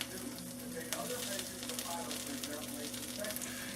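A Reuben sandwich fries in a hot skillet with a steady, close, even sizzle and a low background hum, with no clear talk over it.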